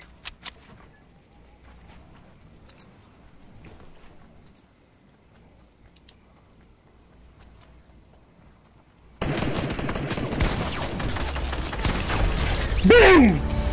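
Video game gunfire: after a quiet stretch with soft clicks, loud rapid bursts of automatic fire crackle up close and continue to the end.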